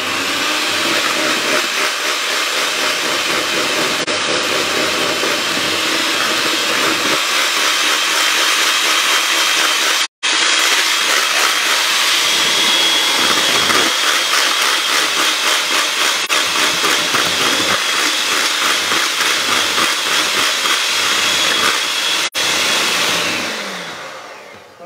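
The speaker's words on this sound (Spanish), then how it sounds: "vamos a hacerlo a máxima velocidad en batidora manual" An electric hand mixer runs at top speed whipping a lemon sponge cake batter to the pale ribbon stage, a loud, even high-pitched whir held almost unbroken, with one brief cut, before tapering off at the end.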